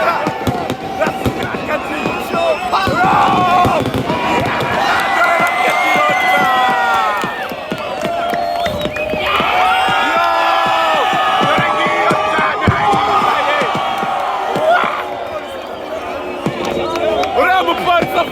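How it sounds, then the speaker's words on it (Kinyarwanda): New Year fireworks rockets burst over Kigali, Rwanda, some with whistling trails, over a steady, dense crowd roar and cheering; people talk and shout throughout. "dore ngiyo roketi ntoya"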